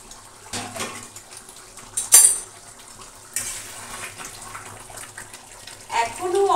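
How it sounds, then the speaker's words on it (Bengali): A metal lid is lifted off a pot of mutton curry cooking on the stove, a sharp clank of metal followed by a softer clatter and the low hiss of simmering, with quiet kitchen sounds around it. "একটু ঢাকনা তুলে দেখি"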